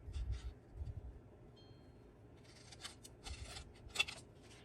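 Scissors cutting paper for a journaling card, a few short crisp snips near and quiet, separated by brief pauses, with faint rustling of paper between cuts.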